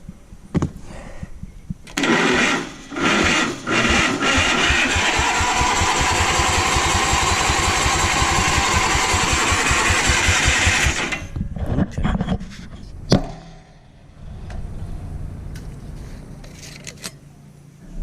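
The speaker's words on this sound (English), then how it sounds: "See if we can't get it to spin over a little faster and possibly fire up and run." Engine of a vintage Sears SS16 garden tractor cranking on its starter, a loud, fast, rhythmic churning that runs steadily for about nine seconds before cutting off, followed by scattered clanks and quieter handling noise.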